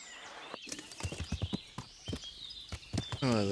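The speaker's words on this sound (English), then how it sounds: "Can I climb on my horse while I'm overloaded here?" Horse hooves clip-clop at a walk in the medieval game Kingdom Come: Deliverance, a quick run of close hollow knocks with a brief whinny-like call at the end.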